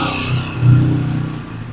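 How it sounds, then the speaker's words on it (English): A motorcycle passes near a house under construction in the Philippines, its engine rising to a loud revving growl partway through and then easing off. "There's a motorcycle."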